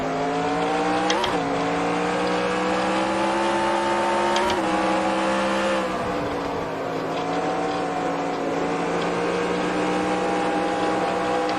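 ARCA race car engines roar in NR2003, holding a loud, sustained buzzing drone with brief pitch dips and surges as the cars run in a pack, with no talk over it.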